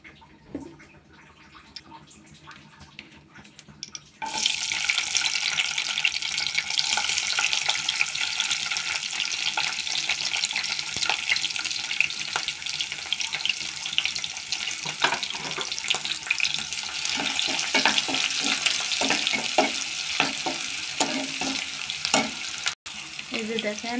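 Onions and green chillies fry in hot oil for a vegetable dish of cauliflower, pointed gourd, potato and eggplant, a loud steady sizzle that bursts in after a few quiet seconds and continues with occasional stirring scrapes.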